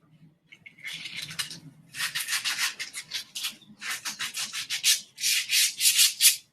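Sandpaper rubbed by hand, making a series of rhythmic, raspy back-and-forth strokes that grow louder and more regular, close up with a faint low murmur beneath.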